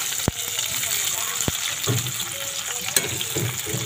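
Lemongrass sautéing in a hot pan for tilapia tinola, a steady sizzle with sharp clanks of a utensil against the pan and faint stirring.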